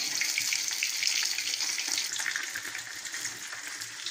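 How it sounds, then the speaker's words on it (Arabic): Water poured into a pot of rice, a steady, close splashing rush that holds for the whole stretch without a break. "هنبتدي نحط الميه"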